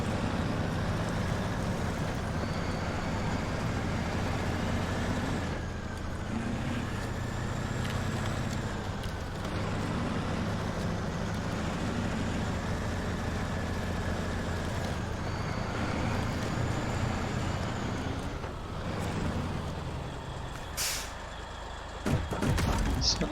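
A heavy truck in the SnowRunner video game crawls along a Yukon road toward a river, its diesel engine grinding at a low steady rumble with pitch shifting as the throttle changes, near and continuous, ending in a sharp hiss and clatter.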